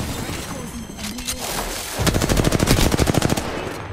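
Rapid automatic gunfire in Apex Legends fires a fast, steady burst of close, loud shots lasting about two seconds, preceded by quieter game noise and faint voice.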